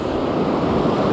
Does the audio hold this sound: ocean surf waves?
yes